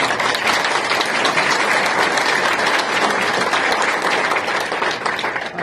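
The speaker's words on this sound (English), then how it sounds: "Give them a round of applause" Loud, dense applause from a crowd at a reception honoring veterans, continuous clapping close and full for several seconds before tapering at the end.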